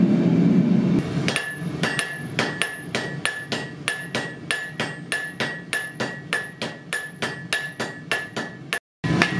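A blacksmith forges a knife blade with a hammer, striking about twenty sharp, ringing blows in a steady rhythm on the anvil. The strikes are close and loud, with one brief pause near the end.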